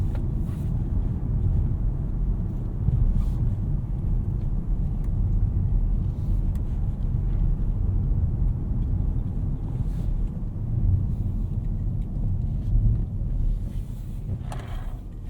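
A 2021 Nissan Altima SR VC-Turbo with CVT accelerating in sport mode, heard from inside the cabin as a steady low engine rumble and road noise that swells and holds, with no talking.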